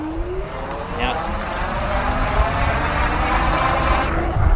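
A Rad Power Bikes RadRover e-bike motor whines under throttle, a steady rising hum that climbs in pitch as the bike gathers speed, with wind and road rumble underneath.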